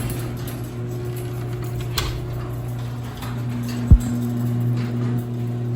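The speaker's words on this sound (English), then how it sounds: "Open up my garage." A residential garage door opens with a steady mechanical hum and creaking, rattling gear noise, with a sharp clunk partway through.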